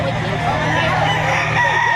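A rooster crows loudly at a busy chicken market, its call ringing out over a constant crowd murmur and people talking nearby.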